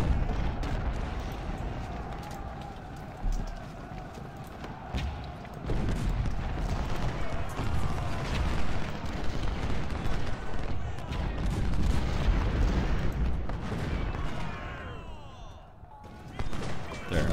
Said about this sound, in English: Alyssa Wilcox fire on Farnsworth for a little bit along with all my artillery